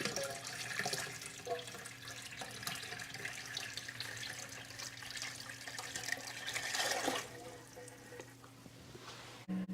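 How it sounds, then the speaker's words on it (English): Water runs and splashes continuously into a metal canning kettle nearby while preserving apples, a steady pouring hiss with slight sloshing variations. "I have water in it, and that's going to raise the water level in the kettle."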